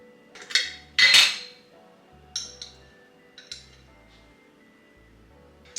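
A small spoon clinks against a jar while scooping peanut butter, giving several light, close metallic taps and scrapes spaced apart over a quiet background, with two louder clinks near the start.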